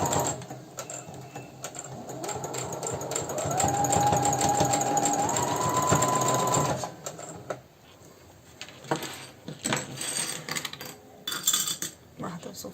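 A domestic sewing machine stitching and backstitching elastic on a Japanese-style baby slipper, a steady close whir that rises in pitch partway through, followed by scattered clinks and handling noises.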